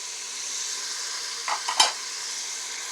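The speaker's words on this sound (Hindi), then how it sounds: "अभी हम इसमें अपने मसाले ऐड कर देंगे।" Spices tipped into a hot frying pan for restaurant-style daal mash (black gram), a steady sizzle with a brief burst of scraping stirs near the middle, close and without talk.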